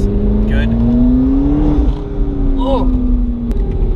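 A wrecked Rolls Royce engine revs, a loud close tone rising steadily then easing back under ongoing chatter, with a sharp knock near the end.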